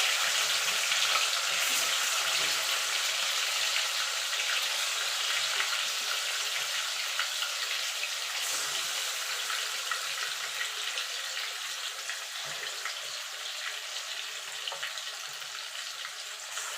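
Chicken pieces frying in a pan for Gondhoraj lemon chilli chicken make a dense, steady sizzle that holds close and even throughout, with faint stirring scrapes and no talking.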